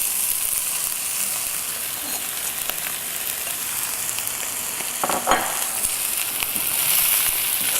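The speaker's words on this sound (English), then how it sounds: "I'm going to add our couscous." Couscous sizzling and frying in a hot pan, a dense continuous crackle with occasional stirring scrapes, close and steady without talk.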